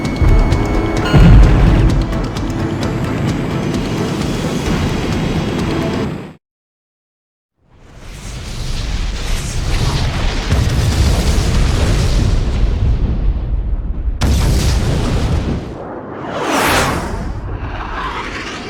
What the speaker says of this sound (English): Cannon firing! Watch out!